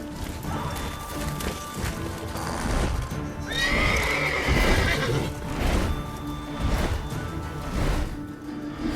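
A horse in the video game The Witcher 3 neighs loudly over the clop of hooves, a whinny rising clearly in the middle amid rumbling game ambience.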